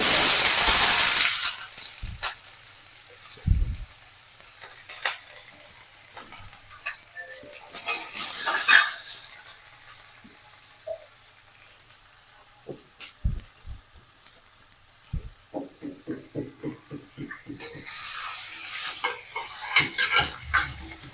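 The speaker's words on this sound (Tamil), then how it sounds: "வெங்காயம் நல்லா வதங்கிருச்சு" Onions sautéing in a pan with cinnamon, cloves and cardamom for an egg gravy, a steady soft sizzle broken by stirring scrapes and clinks, louder bursts near the start, middle and end.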